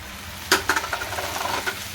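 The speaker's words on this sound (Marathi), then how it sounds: "दोन मिनटं हे छान परतून घ्यायचं आहे तेलावर" Ginger garlic paste and spices fry in oil while being stirred, a close sizzle broken by a cluster of quick scraping and tapping sounds from the spoon against the pan.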